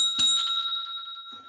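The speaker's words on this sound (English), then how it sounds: "then please ring the bell" A single bright ding of a small bell rings out clearly with a sustained, slowly decaying metallic tone, a soft tap heard near its end.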